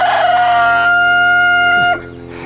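A rooster crows loudly and close inside a chicken coop, one long sustained cock-a-doodle-doo that holds steady for nearly two seconds before cutting off, with faint clucking from hens behind it.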